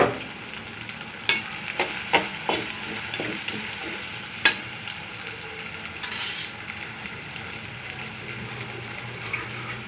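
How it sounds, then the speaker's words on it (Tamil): Onions and green chillies sauté in a pan for a chicken curry, a soft continuous sizzle broken by sharp clicks and scrapes of a spoon against metal, early on and again near the middle. "வெங்காயம் நல்லா பொன்னரமாக வதங்கி வரட்டும்"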